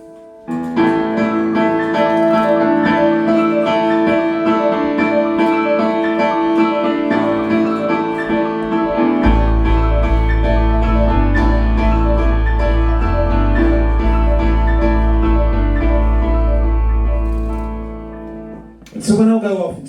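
Piano plays several melodic lines layered over one another, loud and continuous, with a deep bass note entering partway through and sustaining beneath the upper melodies.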